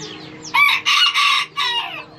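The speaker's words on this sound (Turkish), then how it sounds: "Elimde de öttü arkadaşlar. İnanılmaz bir horoz." A rooster of a new breed crows while perched on someone's finger, a loud close call in a few strong bursts after a brief lead-in, with no talk over it.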